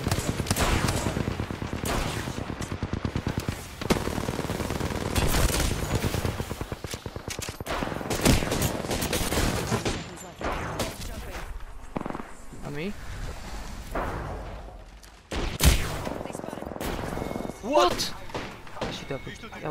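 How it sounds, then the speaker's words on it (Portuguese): Rapid gunfire from Apex Legends rattles in dense bursts and fusillades across the stretch, mixed with thumps and shifting loudness, while players talk over the shooting. "Ela acertou-me os tiros todos"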